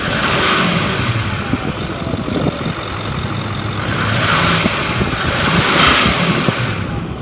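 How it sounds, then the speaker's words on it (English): A 2009 Ford F-550 XL crew cab utility truck engine revving, a steady loud rumble that swells twice as the throttle is pressed, heard alone without talk. "I'm gonna rev it up so you can hear it."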